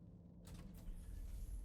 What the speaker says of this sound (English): Nothing like a secret door